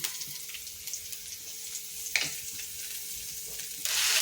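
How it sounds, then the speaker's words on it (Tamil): Mustard seeds and cumin sizzle in hot oil inside a pressure cooker on a home stove. A soft, close, steady frying hiss carries faint pops and rises a little near the end, with no voices. "கடுகு சீரகம் நல்லா பொரிஞ்சிருச்சு"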